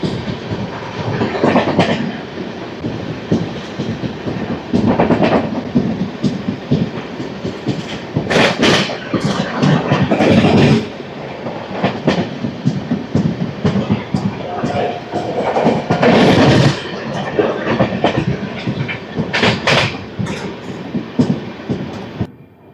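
Venkatadri Superfast Express (12797, Kacheguda–Chittoor) running after departing Jadcherla station: a continuous loud rumble of the moving train with rhythmic wheel clatter and periodic swells, with a voice speaking over it at times.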